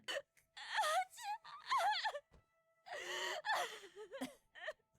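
A female anime character in Vinland Saga gasps and moans in ragged, uneven bursts of voiced breathing, close and intense, with brief silent gaps between the strained breaths.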